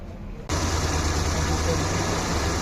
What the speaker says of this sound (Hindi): ये देखिए, ये काम कर रहा है, इंजन की वाइब्रेशन शुरू हो जाती है।